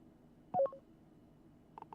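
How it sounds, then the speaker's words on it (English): Short electronic keypad beeps as a PIN is entered on a door lock in the video game Lacuna: one louder tone near the start, a pause, then a quick cluster of fainter beeps. "Enter pin."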